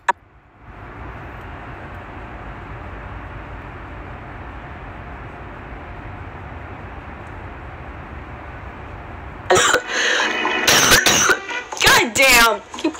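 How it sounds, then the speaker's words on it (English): A steady rumbling hiss fills most of the clip, then a person coughs repeatedly in harsh, close bursts near the end. "Keep coughing."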